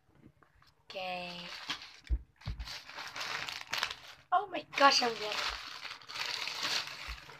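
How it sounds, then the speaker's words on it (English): Plastic squishy package from Banggood being cut open with scissors, bursts of crinkling and crunching plastic in short rustling spells, close and fairly loud, with a person speaking between the rustles. "So I'm gonna open up with the scissors."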